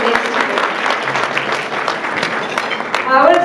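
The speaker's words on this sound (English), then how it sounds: "So hard on this event, so a huge round of applause for all that went into it." An audience at a community center's 50th anniversary celebration gives sustained applause, a dense, steady wash of clapping that swells slightly near the end.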